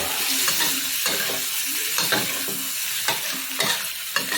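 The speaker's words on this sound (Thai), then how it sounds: "ตั้งน้ำมันเดือดแล้วก็ใส่พริกกระเทียม ผัดเนื้อปลาดุก" Sea catfish meat stir-fried with chili and garlic in hot oil, a loud continuous sizzle broken by repeated scraping and tossing strokes of the spatula, close up and without talk.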